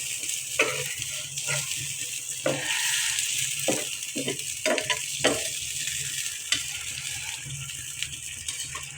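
A small amount of curry broth comes to a boil in a pan, a close, steady bubbling hiss with scattered pops and occasional louder splutters, no voices.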